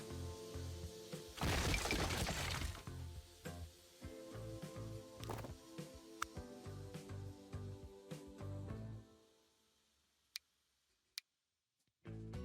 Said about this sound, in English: it's going to remove a building